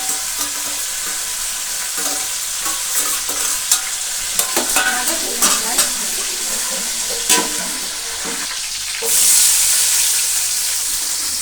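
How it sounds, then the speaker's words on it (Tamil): Onions frying in oil with cinnamon for a one-kilogram batch of biryani, a steady close sizzle with repeated stirring scrapes and clinks against the pot, ending in a louder hiss of steam, with no voices. "வெங்காயம் பொன்னிறமாக வதங்கிடுச்சு."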